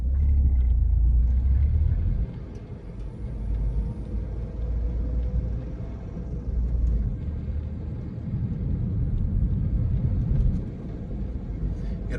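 A passing car on a Houston street rumbles by as heard from inside a moving vehicle, a low steady road roar swelling and easing over about twelve seconds, no talking.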